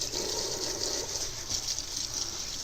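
Water runs steadily from a tap as a paint brush coated in water-based glaze is rinsed clean, a continuous soft hiss and trickle, close and alone without voices.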